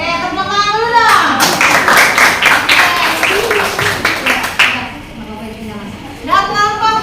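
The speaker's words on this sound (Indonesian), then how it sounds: "tepuk tangan dulu dong" Classroom clapping from seventh-grade students during an Islamic jurisprudence lesson, a burst of hand claps for several seconds between stretches of a voice speaking, fairly close and lively.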